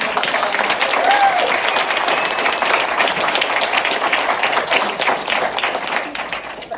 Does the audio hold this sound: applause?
yes